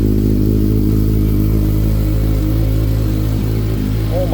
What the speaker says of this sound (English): Oh my goodness, that is a deep sounding motor.